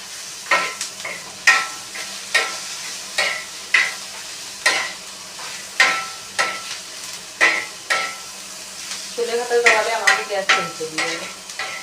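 Okra frying on a tawa griddle over a gas stove, with a steady sizzle and a regular rhythm of stirring or scraping strokes about every second, a busier burst of stirring near the end, and no talk.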